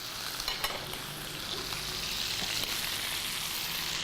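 Whole garlic cloves and a knob of butter sizzle and spit in a hot pan for a steakhouse-style dinner at home, a steady close frying hiss with occasional pops, no voices.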